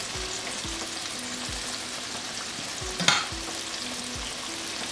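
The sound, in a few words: chicken frying in oil on medium flame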